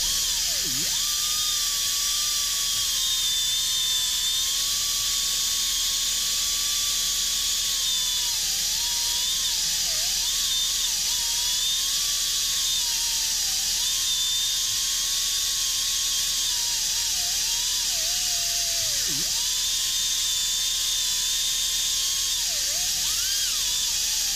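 A high-pitched drill whines steadily as it drills out a steel rivet, its pitch wavering and briefly dipping several times as it bites into the metal, over a constant hissing background.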